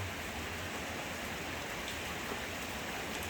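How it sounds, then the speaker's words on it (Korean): Rain falls steadily and evenly at night, a continuous soft hiss of drops with no other sounds. "이 고요한 밤에 이 내리는 빗소리는 누구를 위한 빗소리일까요?"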